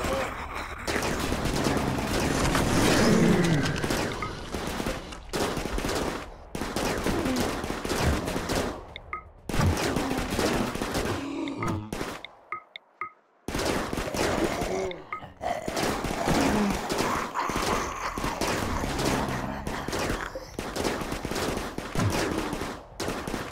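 Dense, continuous automatic gunfire and overlapping volleys in a colony-sim base defence against a wall breach, loud and nearly unbroken with a brief lull midway, no talking.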